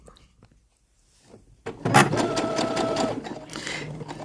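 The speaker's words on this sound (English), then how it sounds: "So typically what you do is you start sewing your fabric." A home sewing machine stitches fabric, starting after a quiet pause and running in a steady, close-up mechanical whir for about two and a half seconds before it eases off.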